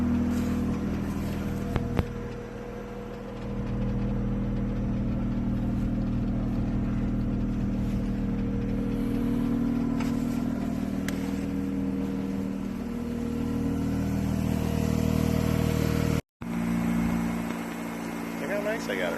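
Turbocharged Mazda RX-8 rotary running about 12 pounds of boost on the road, a continuous droning engine and road rumble heard from inside, steady throughout with a brief cut near the end.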